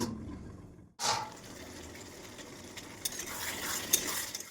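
Rohu fish curry with fried potatoes, slit green chilies and salt is stirred in a hot pan, a soft sizzle with scraping of a spatula and a brief gap near the start.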